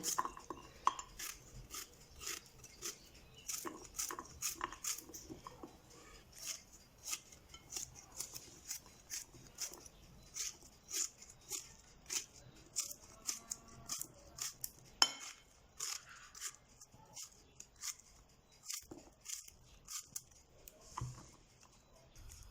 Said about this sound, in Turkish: Şöyle ayıkladıktan sonra ince ince doğrayacağım